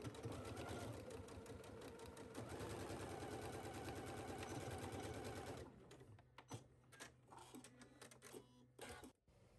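A sewing machine stitches the shoulder seams of a sleeveless blouse facing, a steady rapid mechanical whirr running for several seconds before stopping, followed by quieter fabric handling and small clicks.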